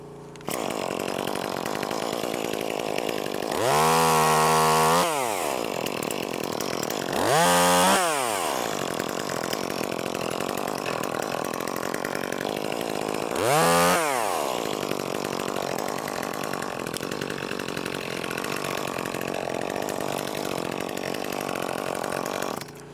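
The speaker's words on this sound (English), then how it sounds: "This is the new West Coast Saw muffler on this 2511T" A Stihl 2511T top-handle chainsaw fitted with a West Coast Saw muffler, used on an ash tree, idles steadily and revs hard three times, two close together early on and one later, each winding back down to idle.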